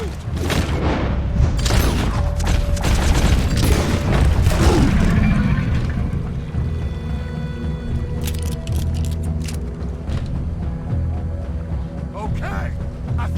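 Gunfire in the video game Red Dead Redemption 2 during a shootout at Bronte Manor: loud booming shots and crashes crowd the first half, then ease into a lower rumble with scattered sharp cracks, and game characters talk over it.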